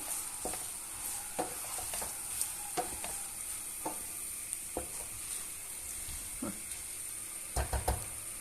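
Bulgur fries with a steady, bright sizzle in a pot while water is poured over it, broken by clear clicks and knocks of stirring, louder toward the end, with no one talking.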